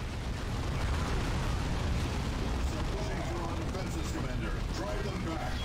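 Repeated explosions from mines in the video game Dawn of War 2, Wrath of the Blood Ravens on hard mode, rumbling as a dense, steady battle din with booms blending together throughout.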